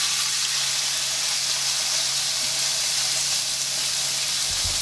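Pounded chicken cutlets frying in a pan, giving a steady, close, continuous sizzle and hiss that holds evenly throughout with no talking.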